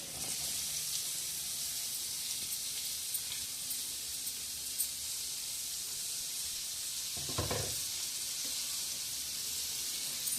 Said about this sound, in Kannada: ಆನಿಯನ್ ಫ್ರೈ ಆಗ್ತಾ ಇದೆ.